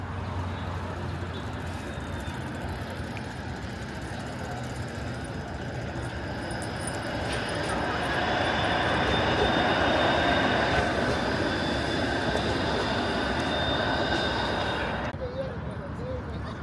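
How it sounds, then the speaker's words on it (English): A Toronto streetcar passes along a road near Riverdale Park East, its rolling rumble and whine building to a peak then cutting off, with people talking throughout. "Oh, here's another streetcar."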